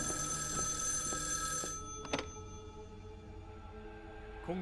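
A telephone rings in a military forward command post, a bright electric bell ringing steadily for under two seconds before cutting off, followed by a quiet room with a faint click.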